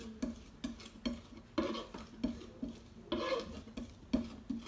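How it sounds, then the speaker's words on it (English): Flat knife blade pressing and crushing garlic on a chopping board, a series of rhythmic muffled presses and scrapes about every half second, close and moderately loud, with no talking. "slowly start pushing down, basically to start crushing the garlic"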